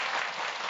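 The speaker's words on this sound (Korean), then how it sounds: "우리 이런 박수는 이런 자리를 만들어주신 하나님께 우리 크게 박수 한번 올리고 시작하겠습니다." A church lecture audience breaks into brief, dense applause, a short burst of many hands clapping at once.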